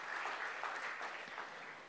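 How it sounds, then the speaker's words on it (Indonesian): Church congregation applauding during a Sunday sermon, a steady wash of many hands clapping, faint and somewhat distant, with no talking. "Tepuk tangan buat Tuhan kita sekali lagi."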